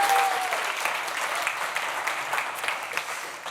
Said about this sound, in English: An applause for Johan